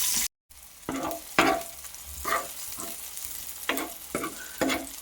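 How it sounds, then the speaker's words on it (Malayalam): Cumin, dried red chillies and shallots tempering in hot oil, with bursts of crackling sizzle as a spoon stirs, several close scraping strokes after a brief cut at the start. "കുറച്ച് ജീരകവും വറ്റൽമുളകും കൊച്ചുള്ളിയും കൂടെ മൂപ്പിച്ചിട്ട് ഇതിലേക്ക് ഒഴിച്ചു കൊടുക്കും"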